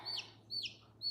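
Young pullet chickens from a farm supply store give three short, high chirping peeps in an even rhythm, faint and close, against a low steady hum.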